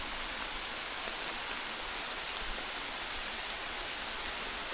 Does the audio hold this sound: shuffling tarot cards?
no